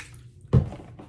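Water hits the hair of a Paula Young Ashby wig in one brief, close splash that rises out of a low, steady background and fades quickly.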